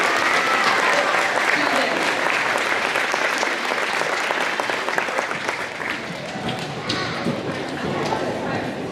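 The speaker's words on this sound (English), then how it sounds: "Let's give one more round of applause for these outstanding students." An audience at a school awards rally claps and cheers for outstanding students, with loud, dense applause that stays strong before tapering slightly, and a voice speaking over it.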